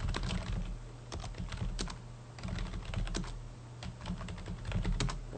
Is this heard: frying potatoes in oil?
no